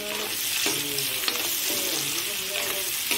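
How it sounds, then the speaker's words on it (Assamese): Meat sizzling and frying in a pan, a steady bright hiss with occasional clinks and scraping as pieces are stirred, close and continuous with no talking. "আগতে মাংসখিনি ভাজি আছোঁ"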